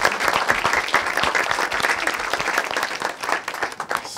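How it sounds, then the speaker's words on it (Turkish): Studio audience on a Turkish comedy talk show bursts into steady, loud applause that fills the room throughout, with dense clapping and no talk over it. "alkışlarla Emre'yi alalım"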